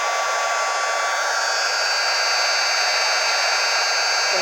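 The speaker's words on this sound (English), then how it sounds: "I've got the heat gun heated up." A heat gun runs steadily at close range, a continuous broadband blowing hiss with a motor whine, used for heat embossing on vellum paper for stamped perennial flower cards.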